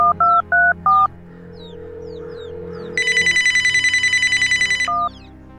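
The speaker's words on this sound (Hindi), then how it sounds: "फोन लगाती हूँ।" A telephone gives four quick dialing tones, then after a short pause a loud electronic ring buzzes steadily for about two seconds, followed by one more tone, with faint background sounds throughout.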